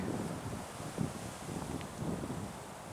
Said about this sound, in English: Look at the wind blowing in the pine.